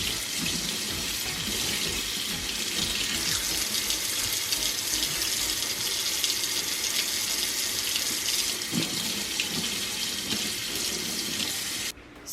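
Tap water runs steadily into a sink while makeup brushes are washed in cold or warm water, a continuous close splashing rush with no voices, cutting off at the very end.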